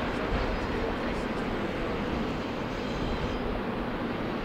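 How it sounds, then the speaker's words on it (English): A long freight train rumbles past steadily on the Tehachapi Loop, a broad continuous roar with rattling undertones that stays loud and even throughout. "This is one continuous train."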